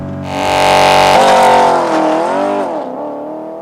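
A Porsche Panamera GTS launches off the line under launch control in Sport Plus mode, its engine flaring to a loud roar that climbs through a quick upshift and then eases off, close by with no talking.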